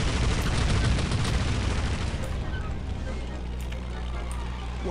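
Rapid gunfire with continuous shots in the Indiana Jones and the Emperor's Tomb video game, a Hong Kong level near the docks, loud and dense at first and thinning toward the end, with voices in the background.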